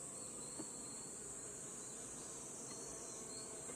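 Honeybees at an opened beehive give a steady, continuous high buzz that stays even and close throughout, with no voices over it.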